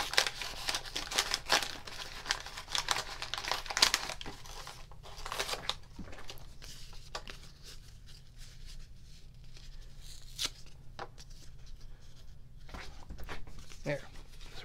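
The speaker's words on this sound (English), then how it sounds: "Tear out the instructions." Paper instructions are torn out of a plastic storage package, giving crinkling and ripping sounds that are loud at first, then a few sharper tears and rustles spread across the clip.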